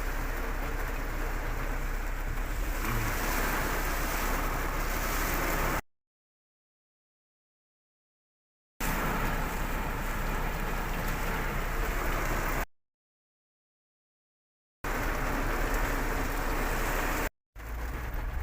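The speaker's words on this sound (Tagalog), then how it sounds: "Grabe, lakas pa rin ng ulan" Dense, steady hiss of heavy rain pouring down, broken by several abrupt silent gaps.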